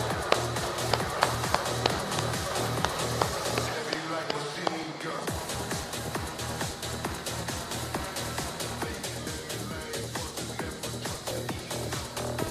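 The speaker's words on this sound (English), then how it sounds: "Keep clapping, keep clapping." An audience at a corporate annual awards event claps steadily along with a rhythmic music beat, dense clapping with a brief dip in the middle, a voice talking over it.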